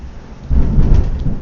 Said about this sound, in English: Thunderstorm out here.